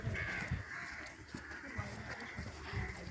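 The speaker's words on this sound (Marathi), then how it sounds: "पक्ष्यांचा आवाज, रातकिड्यांचा आवाज असा येतो" Crows caw at intervals in a calm village setting near a temple, fairly close and moderately loud against a steady background hum.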